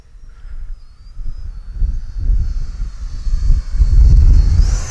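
A Freewing F-16 70mm EDF radio-controlled jet flies overhead. Its ducted-fan whine rises and passes, with a high hiss that climbs near the end, over wind rumble at the flying field.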